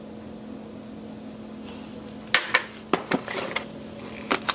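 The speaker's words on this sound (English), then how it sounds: "Those little lids can be really hard to get off sometimes." A small garlic powder jar lid is twisted and worked at in a kitchen, giving a run of short, sharp clicks and plastic knocks close by over a quiet, humming room, with no talking.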